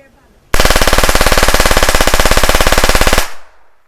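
Sustained rapid automatic gunfire at an outdoor shooting range, one very loud, close, unbroken burst of fast evenly spaced shots lasting almost three seconds before cutting off abruptly.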